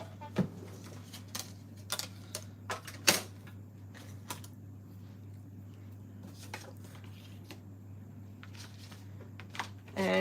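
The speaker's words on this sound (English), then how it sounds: "I'm going to quickly die cut those ones out." A die cutting machine cutting out paper pieces, heard as scattered soft clicks, taps and crunching handling noises close by over a steady low electrical hum.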